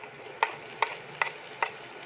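Chorizo and Chinese asado stirred into fried rice in a hot pan, four evenly spaced scraping strokes of a spatula over a soft, steady sizzle, with no voices.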